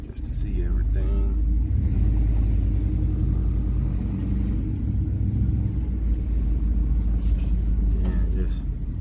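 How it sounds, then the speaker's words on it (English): A truck drives along a quiet road past empty lots, its engine and tires giving a steady low rumble with wind noise throughout, and a person briefly talks over it. "In the truck and gonna just take a ride down"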